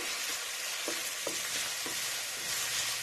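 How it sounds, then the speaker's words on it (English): Onions sizzle steadily in a hot pan while being sautéed for pancit, a constant loud crackle with a few soft scrapes of a spatula stirring, no voices. "I'm just going to saute these onions up until they're translucent."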